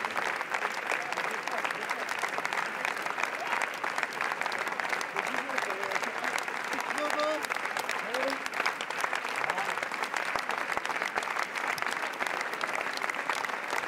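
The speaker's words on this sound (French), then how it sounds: "ça n'arrête pas les applaudissements pour Valérie" Steady, dense applause from the audience in the Salle Lumière at the Cannes Film Festival for Valérie, continuous and unbroken throughout, with faint voices mixed into the crowd.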